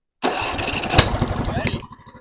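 A small lawnmower engine cranks and catches, then runs with a rough, rattling chug that settles toward an idle, loud and close.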